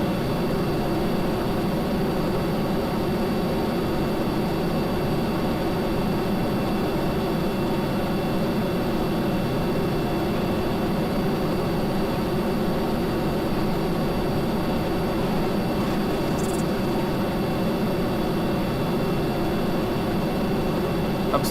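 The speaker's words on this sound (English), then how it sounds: "Come on, give me the afterburner." A jet engine afterburner in the video game Kerbal Space Program roars as a steady, unbroken broadband rush of sound lasting the whole stretch, loud and even, with no voices over it.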